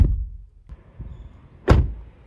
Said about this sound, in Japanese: ドアを閉めた音は